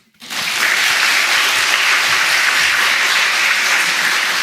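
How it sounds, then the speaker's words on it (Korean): A church congregation at a New Year prayer festival bursts into loud applause for the pastor, starting abruptly and holding as dense, sustained clapping throughout. "목사님께 박수"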